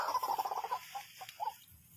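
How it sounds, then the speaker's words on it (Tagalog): Birds call outdoors over a rice field in a quick run of throaty, clucking notes, followed by a few scattered shorter calls at moderate distance. "tumutunog yung mga ibon guys uh, sa palayan yan guys tumutunog yung ibon"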